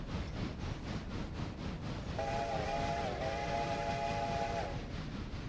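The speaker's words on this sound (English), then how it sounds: "That is the cutest whistle I've ever heard." A steam locomotive whistle sounds in the Railroader train game, a bright multi-tone note held for about two seconds over steady rhythmic chugging and rolling rail noise.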